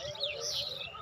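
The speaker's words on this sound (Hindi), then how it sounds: "खूबसूरत चिड़ियों का बसेरा, उड़ते हुए, चहचहाते हुए और दाना चुगते हुए" Titihari birds chirping in village trees, a steady wavering tangle of high, thin calls that carries on without a break, fairly faint and a little distant, with no voices.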